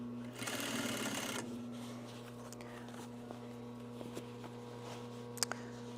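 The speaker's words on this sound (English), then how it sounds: "You do want to back tack this seam, a few stitches up at the top." Sewing machine back tacking a few stitches at the top of a seam on a fabric shoulder bag, a brisk loud run of stitching for about a second, then quiet machine hum with small ticks and handling taps.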